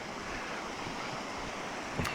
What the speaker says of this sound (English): And here's a beautiful little river here.